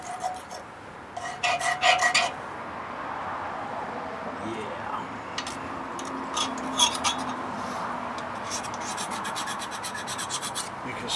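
Metal being scraped to collect rust for starting a fire outdoors, a rough rasping rub in close bursts, strongest early then steadier and fainter, with a voice talking over part of it.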